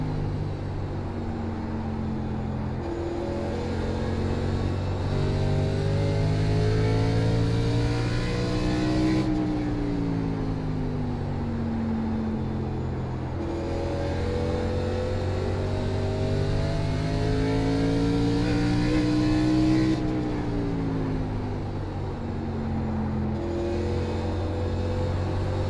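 Race car engines in an iRacing K&N National Series race at USA International, rising and falling revs with harmonic whine as the car accelerates, shifts and brakes through corners, loud and continuous with no talking.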